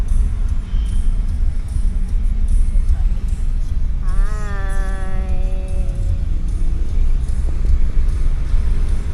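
Heavy road traffic near Angeles City, a constant low rumble of engines close by, with a horn-like tonal blare rising briefly in the middle.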